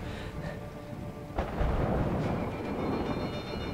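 Thunder rumbles through a storm in the video game A Way Out, a low rolling boom with a sharper crack partway through, loud and alone with no talk.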